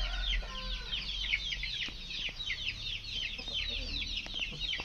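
Aseel chickens cluck and chatter continuously, close by on a breeding farm in Kerala, with a low hum underneath and a few faint knocks.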